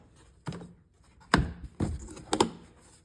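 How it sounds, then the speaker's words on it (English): The plastic air filter lid on a Honda FourTrax 300 ATV being pried off, a few close hollow clunks and knocks in an uneven sequence. "Get this air filter lid off."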